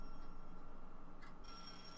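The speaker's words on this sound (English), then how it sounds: "That sounds like a phone." Mobile phone ringing in a visual novel game, a faint electronic trill heard alone against a low steady hum for a couple of seconds.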